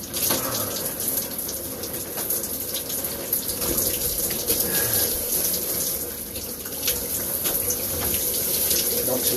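Shower water running steadily at a comfortable temperature for a brief rinse, a continuous broadband hiss of spray with faint background voice traces.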